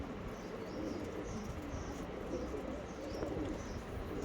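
Andhra Fulsira pigeons coo softly and repeatedly in a loft under a steady broadband background noise, faint and continuous.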